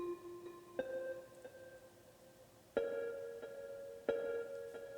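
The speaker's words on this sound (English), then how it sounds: "the last instrument in this section were some bells, the lead, and they sound like this." Bright, bell-like synth tones play a sparse lead melody in a reggaeton-style beat, with a few clear ringing struck notes that sustain and decay over a soft background.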